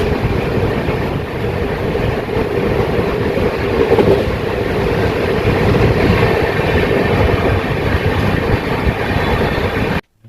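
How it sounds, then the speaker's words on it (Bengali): The 13151 Kolkata–Jammu Tawi Express runs into Bardhaman with a loud, steady rumble and rattle of wagons throughout, heard close from on board before it cuts off abruptly at the end. "ট্রেন ঢুকছে বর্ধমান"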